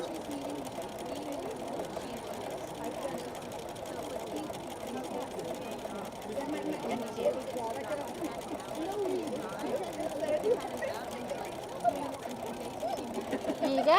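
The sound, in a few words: sewing machine free-motion stitching a thread drawing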